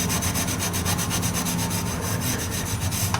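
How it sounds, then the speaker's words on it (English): Steel wool scrubbing rust pits on a part from a 1978 Indian moped: a steady, close rasping rub with rapid back-and-forth strokes, continuous and fairly loud with no talk. "I am going to try to clean some of these rust pits up, and steel wool does an amazing job"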